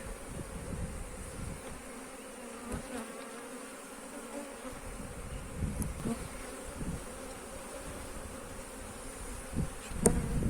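Honeybees swarming around an opened hive with the queen inside, a dense, continuous angry buzz close by, with a few louder passes of single bees near the listener.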